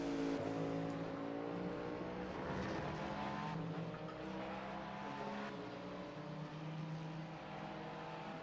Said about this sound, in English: There's a faster class car approaching.